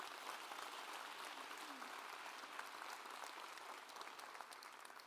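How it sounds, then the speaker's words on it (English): Sustained audience applause during a school superintendent's State of the Schools address; dense, even clapping from a large crowd continues throughout, somewhat distant and moderately quiet. "that's worth an applause"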